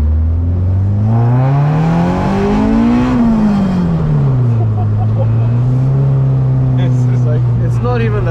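Spoon-built Honda Civic EG6 engine revving hard into VTEC, loud and close, its pitch climbing steeply, then falling back and holding a steady drone, with faint voices in the background.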